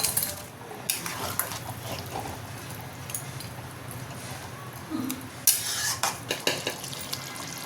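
Koftas go into a pot of boiling curry and are stirred, giving quiet scraping and soft clinks against the pot over a low simmering bubble.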